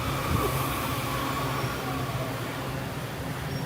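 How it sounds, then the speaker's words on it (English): Metro train passing close by at a station area, a loud continuous rumble of wheels and carriages with a faint high squeal running through, steady for a few seconds without talk. "The train came right by as you were looking at something."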